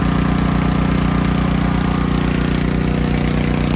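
An inexpensive 3 kW generator runs a heat pump, its engine droning loud and steady at close range with an even pulsing throb throughout, and no voices.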